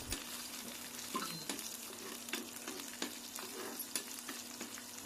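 Garlic cloves, green chillies and cumin seeds fry in oil over a medium flame, a soft steady sizzle broken by small pops and spatters, close but quiet, with no talk.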